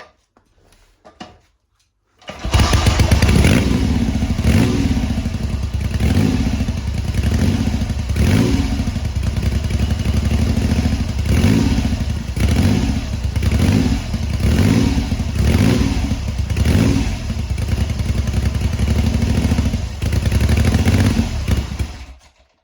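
A BSA Rocket Three A75R Mk.1 triple, with erratic running, idles loudly on full choke, a steady close rumble with regular pulsing thumps and mechanical clatter running unbroken for about twenty seconds.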